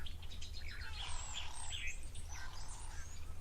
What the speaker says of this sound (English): Sounds like a yellow-breasted apellis or apellis.